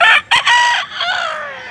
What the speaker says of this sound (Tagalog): Anong linyada ng manok ito?